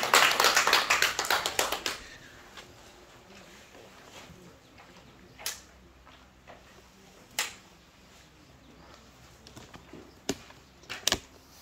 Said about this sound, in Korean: 그리고 힘찬 박수로 환영해 주십시오.